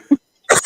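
One short, close, loud cough, followed after a brief silence by a rougher throat-clearing burst.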